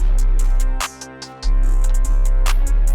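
A dense, loud hip-hop groove with booming sub bass, sustained harmonic layers and crisp hi-hat and snare hits, briefly thinning out before the full beat returns.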